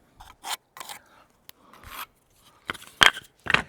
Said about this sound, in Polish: Biorę ołówek i sobie obrysuję deski.